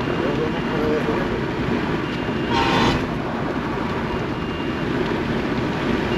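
An Indian Railways train in Bihar rumbles past close by at high speed with steady heavy noise, and a brief horn blast sounds partway through.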